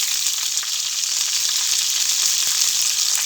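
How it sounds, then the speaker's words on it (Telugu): Onions fry in hot oil with a loud, steady, close-up sizzle that continues without interruption and without voices. "తర్వాత టమాటాలు ఈ మూడు కలిపి నూనెలో మంచిగా వేయింపుకోవాలి"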